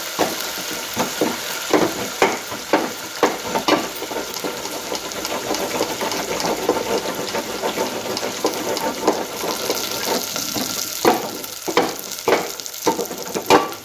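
Bottle gourd curry being stirred and mashed in a hot pan, a steady sizzle broken by repeated scraping knocks of the spoon against the metal, close and fairly loud with no voices.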